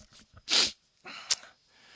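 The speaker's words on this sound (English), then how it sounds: "I feel a sneeze coming on" A single close, sharp sneeze after a short intake of breath, followed by a quieter sniff or snort.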